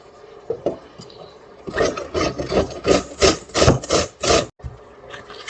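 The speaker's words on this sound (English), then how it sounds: "So I am going to grate some cabbage." Cabbage is rubbed against a grater for coleslaw in a home kitchen, giving a run of about ten rhythmic rasping strokes at close range. It starts with a few lighter scrapes.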